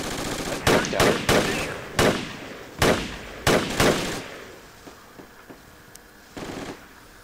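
Gunfire in the video game Project Reality: a rapid string of loud, sharp rifle shots in quick clusters, followed by quieter, more distant pops and a final crack, with no talking over it.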